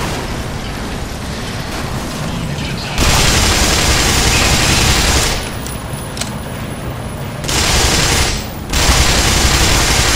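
Gunfire in the shooter game Black Mesa comes as loud, dense bursts of rapid shots and booms, broken by short lulls across the whole stretch, with no speech over it.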